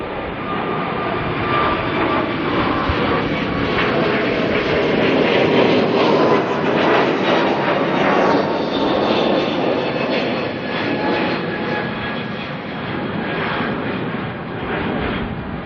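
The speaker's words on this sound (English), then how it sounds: "A321 here, heading off to Apia." An Airbus A321 jet departs Auckland Airport for Apia, its broad engine roar loud and steady throughout as it climbs overhead, with a whining tonal edge riding over the rumble.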